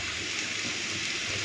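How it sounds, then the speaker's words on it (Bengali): Hot water pouring into a pot of lentil dal, a steady, loud, continuous gushing rush that holds evenly throughout without a break, no talking. "গরম জলটা রেখেছিলাম, দিয়ে দিলাম।"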